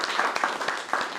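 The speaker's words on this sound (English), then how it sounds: "May you give him a robust round of applause." A short burst of applause at a crypto event in New York, scattered hand claps rising and falling briefly from an audience.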